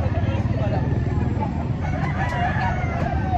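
Roosters crow amid many gamecocks at a fighting-cock market in Lipa, Batangas, with one crow standing out over a constant din of birds and crowd noise.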